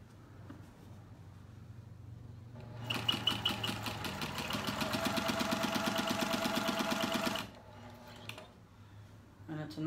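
A heavy little sewing machine stitching quilt patches for a four-patch baby quilt, running in one steady rapid burst of rhythmic mechanical clatter for several seconds before stopping, close and moderately loud.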